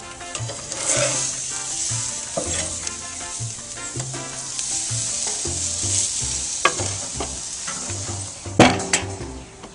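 Pork searing on a grill, a steady sizzle with repeated scraping and stirring clatters and a few sharper knocks, close and fairly loud.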